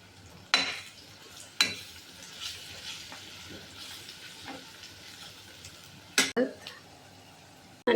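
Onion sautés with garlic-ginger paste and coriander and cumin powder in a pan for a fresh-coconut vegetable dish, giving a soft sizzle broken by sharp clanks of a spoon against the pan.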